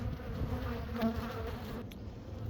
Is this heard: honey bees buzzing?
yes